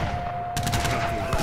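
Musket gunfire in an Age of Empires III battle, a sudden rattling volley of shots over steady game sound and background music.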